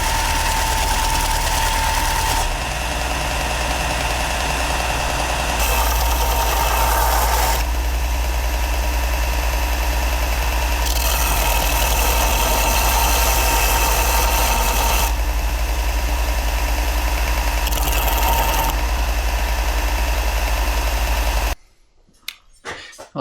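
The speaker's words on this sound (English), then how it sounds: "I'm going to use my belt sander just because I have one. It's going to be on 40 grit" Belt sander running on 40 grit while grinding an axe head, a loud steady mechanical drone with shifts in tone as pressure changes, continuing for about twenty seconds before cutting off abruptly near the end.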